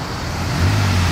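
A Porsche Carrera 2-litre car arriving at a tyre shop, a steady low engine rumble that swells slightly toward the end, close by and with no talk.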